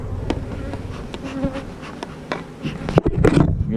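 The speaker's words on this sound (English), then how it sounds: "Misbehaving bees." Bees from an opened hive buzz close by in a steady drone, with sharper bursts near the end as they swarm and sting, and someone talks over them.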